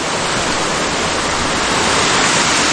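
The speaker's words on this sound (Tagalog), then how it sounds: "May tubig na dito mga utol." Water rushes steadily across a road blocked by a landslide, a loud, continuous close-up roar with no pauses or voices.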